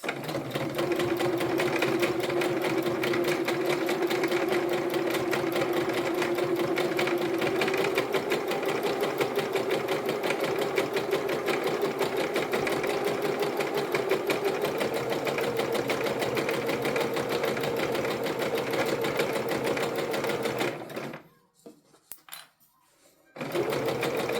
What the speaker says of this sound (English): My settings on my sewing machine are standard, so they're my standard for my machine. It's a straight stitch